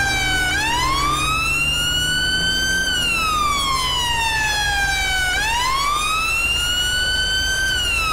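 A fire engine siren in GTA V wails loudly and steadily up close, its pitch sweeping slowly up and down in long cycles over a constant low engine rumble, with no one speaking.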